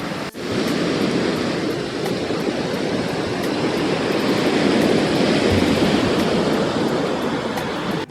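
Sea waves at Malippuram beach on Vypin, a pine-fringed shore, make a continuous, fairly loud surf roar with a steady wash and no distinct single breakers, and no voices.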